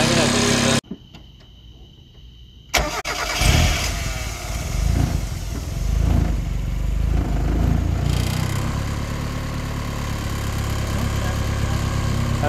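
A 1996–97 Mazda Miata with a VAG R8 coil pack conversion cranks and fires, then settles into a steady, close idle with some rattling, while people talk over it.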